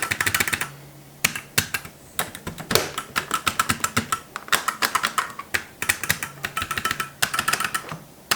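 Buttons on a Galaga arcade cabinet being pressed and tested, a rapid, irregular run of close, sharp clicks and taps in quick bursts, with no talk.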